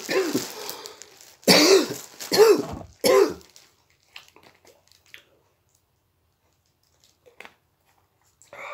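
Several rough coughs and throat-clearing bursts close to the listener in a quiet room, three or four strong hacks followed by faint rustling and small handling noises.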